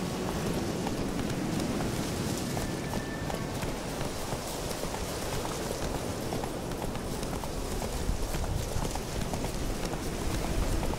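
Horse galloping in The Witcher 3: Wild Hunt, a steady stream of hoofbeats over a dense continuous outdoor wash of game sound, with no talk.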